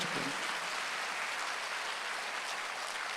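A church congregation applauds during a Sunday worship service, a steady, even wash of many hands clapping that fills the hall at moderate, distant loudness without pause.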